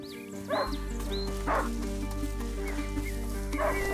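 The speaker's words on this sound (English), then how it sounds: "A hunting dog is not supposed to lose its hunter." Hunting dog barking in the video game A Plague Tale, a few sharp barks spaced across the clip over a steady low game ambience.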